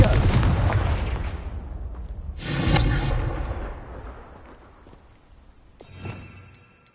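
A fire blasting curse detonates in Hogwarts Legacy: a loud, rumbling explosion that decays slowly, followed by a second burst, then a smaller, sharper blast fading out, with no talk over it.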